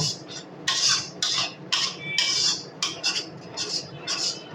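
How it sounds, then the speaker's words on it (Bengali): A utensil stirs raw mango aamsatta batter in a pan, making repeated scraping strokes in an uneven rhythm, close and moderately loud. "আমি খুব ভালো করে একটু নেড়ে চেড়ে নেব।"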